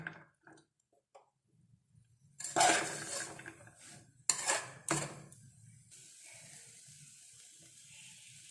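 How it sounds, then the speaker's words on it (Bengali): Kabuli chole masala is stirred in a pan with a few bursts of metal scraping and clinking between quiet gaps, close by, followed by a faint steady wash of background noise. "নেড়ে নেড়ে রান্নাটা করতে হবে"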